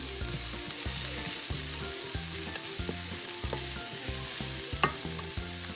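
Corned beef hash ingredients sizzle in a pan on medium-high heat while being stirred, with a steady close frying hiss under a regular pulsing hum and occasional utensil clicks.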